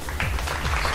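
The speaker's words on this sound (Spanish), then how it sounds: "De verdad que voy a repetir este aplauso, muy merecido," Applause replayed on a Bogotá radio show: a continuous wash of crowd clapping at steady loudness throughout, with no voices over it.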